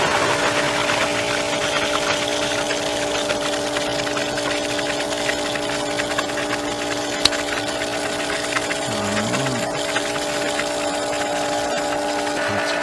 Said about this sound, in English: time to turn it on and backwash it